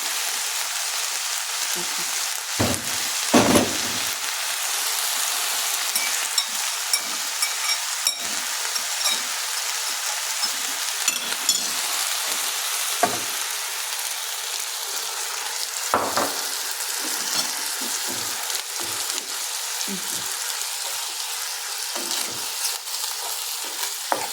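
Ground beef sizzles in a pan with tomato paste, a soft continuous crackle broken by occasional scrapes and knocks of stirring.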